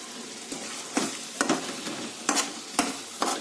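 Cooked tomatoes being mashed in a pan for a drumstick tomato curry (mulakkaya tomato curry), with about seven soft, wet squelching presses and scrapes at an irregular pace over a low steady sizzle, heard close with no talk.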